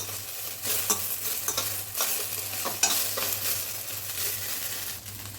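Oil tempering for coconut chutney crackles and sizzles steadily in a pan while being stirred, with scraping strokes and spatters throughout; no talking.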